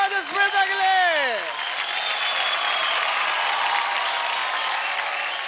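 Studio audience applause after a dance performance on Dance India Dance, a loud sustained wash of clapping that starts under a host's voice and continues alone.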